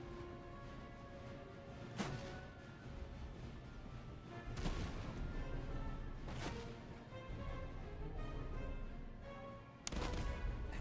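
Cannon and artillery fire in the Napoleonic-era battle game Master of Command, booming blasts roughly every two seconds over a continuous rumbling battlefield din, with no talking.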